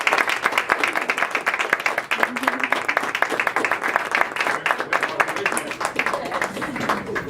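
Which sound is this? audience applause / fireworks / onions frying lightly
audience applause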